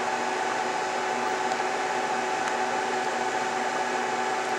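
An HP DL380 G2 server rebooting, its cooling fans roaring in a dense, steady broadband whoosh at constant loud level throughout, close and without pauses.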